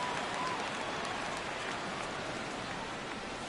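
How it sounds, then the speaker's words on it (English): Steady rain hisses throughout a baseball game in MLB The Show, a dense even wash of falling drops with no talk over it. "Rain continues to fall here in the 6th."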